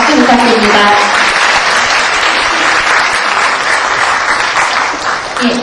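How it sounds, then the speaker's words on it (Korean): Sustained applause from an audience at a university debate competition award ceremony, dense and steady clapping throughout, loud and close, tapering slightly near the end. "시상을 도와주신 강철원 해설위원님께 박수 부탁드립니다"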